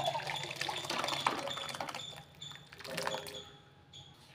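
Vegetable soup is poured into a bowl, a soft liquid splash and trickle with faint scraping and clinks, fairly quiet and close, no voices.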